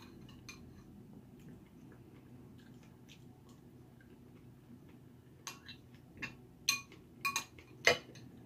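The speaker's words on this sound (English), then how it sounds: "A lot of clinking noises, sorry friends." During a meal of vegan, gluten-free pizza and fruit salad, cutlery clinks against dishes in a few sharp, bright taps near the end, after a long stretch of quiet low hum.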